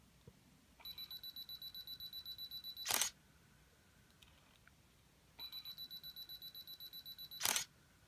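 A single-lens reflex camera, triggered by a cheap 278-yen remote control with a 2-second delay, fires twice. Each time a quiet run of rapid beeps counts down, then a sharp shutter click sounds. There is no talk.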